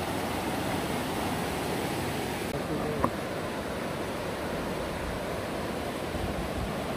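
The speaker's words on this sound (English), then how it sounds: "You hear the sound of the river." A river flows near Elkmont in the Great Smoky Mountains of Tennessee, a steady broad rushing wash of water, constant and fairly close, with no talking over it.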